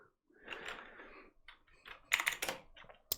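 Keys on a computer keyboard tapped out in a short burst while a Linux terminal command is entered, a close, fairly loud run of irregular clicks and clacks with a couple of sharper strikes near the end, no talking.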